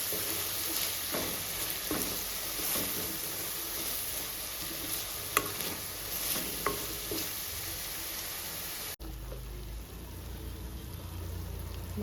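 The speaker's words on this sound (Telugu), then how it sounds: "మసాలా కూడా బాగా పచ్చివాసన పోయేంత వరకు ఫ్రై చేసుకోవాలి." Masala for a fish curry fries in a pan with a steady hissing sizzle, broken by occasional stirring scrapes and clinks, and turns into a lower, fuller frying rush near the end.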